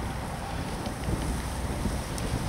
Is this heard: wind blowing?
yes